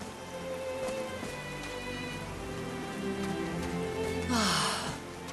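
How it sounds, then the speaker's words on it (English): Rain falls steadily on a mountaintop in the video game Call of the Sea, a constant soft patter under a layer of game music, swelling briefly near the end. "These drops of rain are so refreshing."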